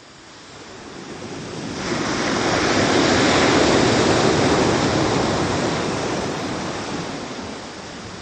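Ocean surf washing in as a single broad wave swell, rising from quiet to a loud rushing roar and slowly receding, with a windy hiss and no voices.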